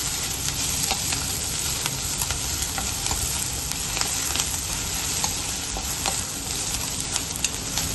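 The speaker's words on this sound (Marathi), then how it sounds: "तरी ते कांदा, टोमॅटो आणि शिमला मिर्च व्यवस्थित हे फ्राय झाली आहे" Onion, tomato and capsicum fry in a pan for street-style masala Maggi, a steady close sizzle with frequent scraping and stirring clicks, continuous and without any voices.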